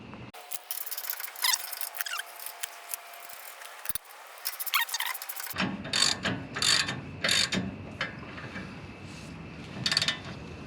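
A ratchet tightens a bolt on a Toyota Tacoma during upper control arm reassembly, giving loud close bursts of rapid clicking with pauses between strokes, set against faint shop noise.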